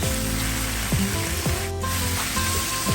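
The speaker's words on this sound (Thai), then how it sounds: "ผัดเส้นให้หอมครับทุกคนครับ" Wide rice noodles and shrimp stir-fried in a hot wok, a steady loud sizzle broken by repeated scraping strokes of the spatula about every half second.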